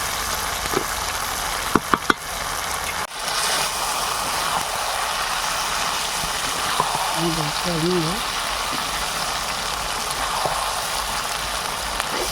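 Raw potato pieces frying with chicken curry in a village kitchen, a steady broadband sizzle running throughout with a few sharp clinks near the start and a brief faint voice partway through.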